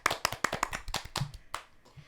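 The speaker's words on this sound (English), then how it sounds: "applause for the movie" A few people clap briefly for a movie they just rated, sparse close hand claps in a quick uneven burst lasting about two seconds, with faint bits of voice mixed in.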